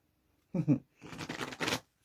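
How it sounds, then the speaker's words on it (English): Two quick riffle-shuffles of a deck of playing cards, a short burst and then a longer fluttering one, close and crisp. "2 shuffles, Merlin says."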